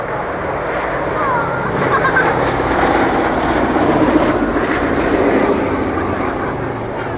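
A B-17 bomber flies at the RNAS Yeovilton airshow, its piston engines giving a broad rumbling drone that swells and fades slightly, heard from a distance beneath an announcer's commentary.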